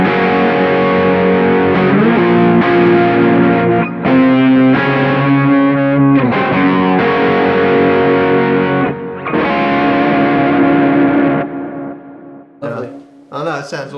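Electric guitar runs through a Kemper amp profile with tremolo and a harmonizer, playing the bridge section of a song. It is loud and distorted, with layered sustained phrases and short breaks, then choppier bursts near the end.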